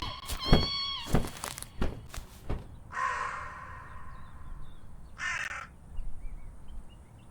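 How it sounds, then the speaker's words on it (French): A bird calls in the video game We Harvest Shadows, a few sharp caw-like cries at the start followed by softer chirps, with muted ambient sound between them. "Bah c'est un oiseau."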